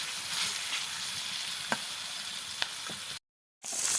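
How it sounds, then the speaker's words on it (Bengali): Fish pieces fry in hot oil in a village kitchen, a steady loud sizzle with occasional pops and soft stirring scrapes, broken briefly by a short silent gap near the end. "এবার ভেজে রাখা মাছগুলো গরম তেলে দিয়ে দিচ্ছে।"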